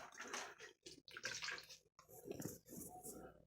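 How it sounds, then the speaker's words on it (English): Distilled water splashes and pours over herbs being rinsed in a kitchen, a close, uneven gush broken by brief pauses. "rinse it off with some distilled water just to get that tang off"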